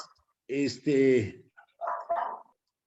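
A small dog near a microphone in an online meeting gives two sharp barks followed by softer whimpering yips, close and clear against an otherwise quiet background.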